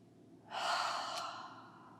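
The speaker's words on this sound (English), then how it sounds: "Let's take a nice deep breath." A single deep, slow breath during a guided healing meditation, close and soft, with a smooth rush of air that swells quickly and then fades gradually.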